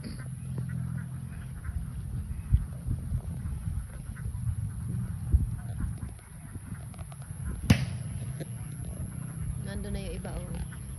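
A flock of ducks quacks intermittently in an open farmyard, their calls mixing with steady background noise while a person talks over them for much of the time.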